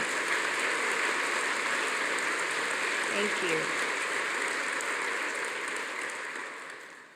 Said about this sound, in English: let's give the ceremony staff and volunteers a really big round of applause for their hard work and enthusiasm